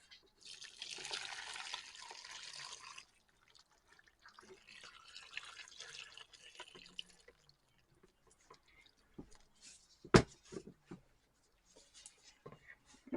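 Melted soap-making liquid pours and drips steadily through a strainer for a few seconds, then scattered clinks and one sharp knock follow.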